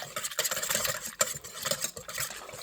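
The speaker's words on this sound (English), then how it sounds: "So now I'm going to whisk this up" A whisk stirs sourdough starter into water in a bowl, giving a brisk, continuous scraping and sloshing that is close and moderately quiet, running unbroken with no voices.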